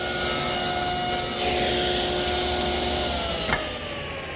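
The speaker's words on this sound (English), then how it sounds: "I'm using a 1/2-inch bit in my router" A router fitted with a 1/2-inch bit cuts mortises in wood with a steady, loud high-pitched whine and a rough chewing hiss that holds throughout, with a brief knock near the end.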